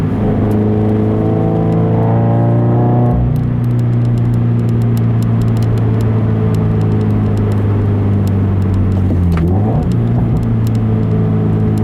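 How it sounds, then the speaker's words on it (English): Subaru BRZ engine in fifth gear with a manual downshift and rev match: a loud steady engine drone dips at about three seconds, then a brief blip of throttle rises and falls near the ten-second mark, heard from inside the cabin. "I'm in fifth gear, and just downshifting, just see, I'm just jabbing the gas"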